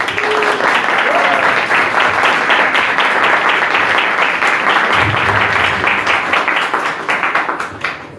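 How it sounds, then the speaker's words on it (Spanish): Sustained applause from an audience at a book presentation, dense and steady clapping filling the room for several seconds, then thinning toward the end. "Un aplauso, por favor."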